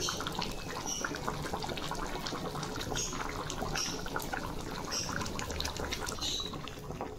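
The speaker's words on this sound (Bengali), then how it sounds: "নিয়ে জল দিয়ে দেবো।" Water is poured into a simmering potato curry in a pan, giving a steady liquid rush and bubbling close by, with faint clinks on top.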